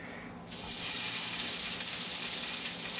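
Soyrizo drops into a hot pan for an omelette and starts frying, a quiet moment giving way to a sudden, steady close sizzle that holds to the end.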